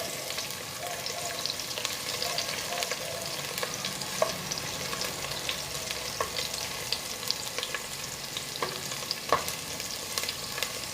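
Garlic frying in a pan for fish-head sinigang gives a steady, even sizzle and crackle throughout, with occasional small pops.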